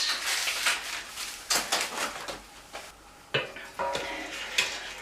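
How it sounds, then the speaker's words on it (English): Granulated sugar, a one-kilo bag of plain white sugar, pours into a batch of pumpkin wine, giving a steady sandy hiss in uneven bursts, with a few light clinks like a spoon or container edge. "I'm adding just a bag of normal sugar, granulated sugar"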